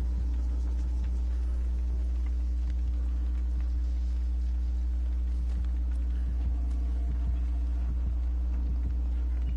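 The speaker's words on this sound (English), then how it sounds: "I feel like I get a heartbeat like every 2 seconds and then goes away and then comes back." Heartbeat sound from the Dead by Daylight horror video game: a low, steady throbbing pulse repeating under a constant hum, fairly loud and alone with no talking.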